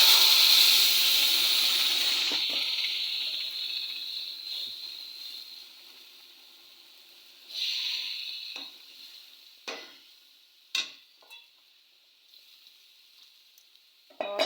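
Roasted chillies and greens hit hot oil with jakhya seeds in a kadhai, giving a loud hissing sizzle that slowly fades. A few close knocks and scrapes of stirring follow.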